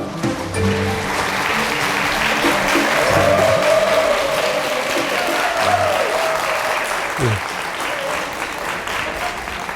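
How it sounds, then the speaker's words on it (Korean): An audience at a public lecture in Gunsan applauds warmly and steadily for several seconds, with voices and crowd murmur mixed under the clapping. "큰 박수로 맞춰주시기 바랍니다."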